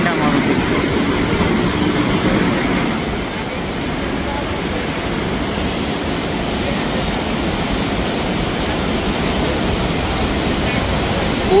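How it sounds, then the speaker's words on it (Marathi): The flooded Godavari river in Nashik rushes past after heavy rainfall, a loud, unbroken roar of water that fills the whole scene, with a voice faintly underneath. "गोदावरी नदीचा पूर आपण आता इथून बघतोय"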